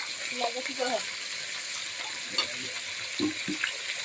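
Fish head and tail pieces frying in hot oil on a stove give a continuous sizzle, with a few light clinks of a utensil and a voice talking over it.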